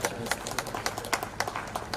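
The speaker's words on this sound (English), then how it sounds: "let's give a big round of applause for her" Audience applause at a school Independence Day award ceremony, a quick scattering of claps close by for a poetry recitation winner, fairly faint and brief.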